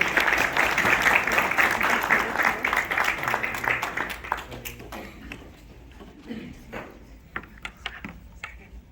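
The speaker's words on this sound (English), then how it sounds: "A big round of applause for Ava Castillo." A school crowd applauds a new safety patrol member at an elementary school event, with dense clapping that gradually thins into scattered claps, and voices murmuring underneath.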